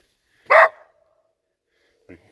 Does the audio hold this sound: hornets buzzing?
no